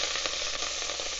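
Chopped celery dropped into a hot pot of fat for red beans and rice, giving a loud, continuous close-up sizzle with faint stirring, and no voices.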